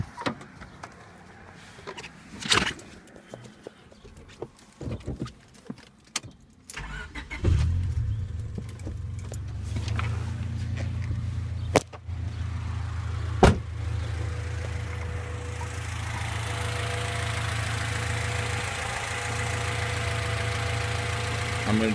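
A car fitted with a modified manifold and throttle body, with a few clicks and clunks before the engine cranks and catches at about seven seconds. It then settles into a steady, close, low idle that runs to the end, with no one talking.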